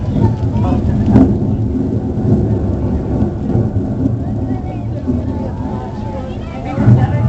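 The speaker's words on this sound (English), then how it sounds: "We decide where and when it rains." Artificial rain and thunder effect on a studio backlot tour at Universal Studios Hollywood, a steady loud rush of rain with low rumbling thunder, under crowd chatter and a guide's voice.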